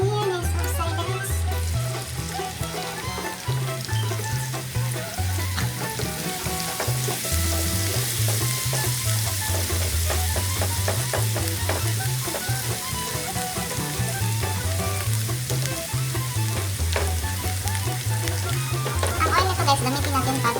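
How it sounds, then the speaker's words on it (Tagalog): Garlic roasting in oil in a pan as a topping for garlic buttered chicken breast, a loud continuous crackling sizzle with repeated scraping stirs and a low rhythmic thumping underneath, no speech. "I-roast natin ang ating garlic first para sa toppings natin guys"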